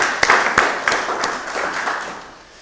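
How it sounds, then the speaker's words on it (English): Audience at an adult church forum clapping for Frances, a few sharp claps standing out at first, then a looser, thinning patter of hands that fades toward the end. "Give Frances a round of applause."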